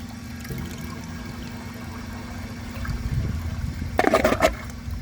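Vortens Vienna toilet flushing during a flush test, a low steady water rush building into a louder gurgling surge near the end, heard alone without talk.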